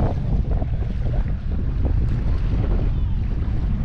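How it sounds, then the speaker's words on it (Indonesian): Strong wind gusts across Kenyir Lake during a kayak expedition, buffeting the microphone with a loud, continuous low roar and rustle of choppy water nearby. "angin di Tasik Kenyir ni sangat-sangat kuat"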